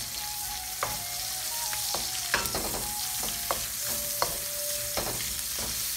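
Bacon fries in a Chinese wok, cooked for an English breakfast, with a steady close sizzle broken by several sharp clinks and scrapes of stirring, and no one talking.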